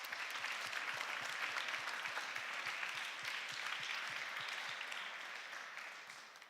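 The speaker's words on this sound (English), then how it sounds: "he definitely needs or deserves a very good applause" Conference audience applause, a broad steady wash of many hands clapping at a distance that continues for several seconds before slowly tapering off.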